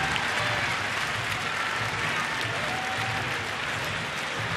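A big baseball stadium crowd of over 36,000 at a Thursday afternoon game cheers and claps in a steady, dense roar throughout, distant and continuous.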